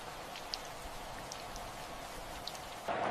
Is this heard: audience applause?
no